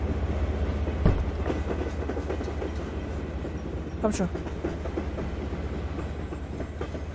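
Train rolling on rails in the Zompiercer video game, a steady low rumble with faint clickety-clack and occasional metallic knocks, while a voice briefly speaks over it.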